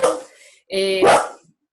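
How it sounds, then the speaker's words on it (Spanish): A pet dog barks in a home during an online seminar, a couple of sharp close barks and a short yip standing out loudly between pauses. "perdón, mi perro"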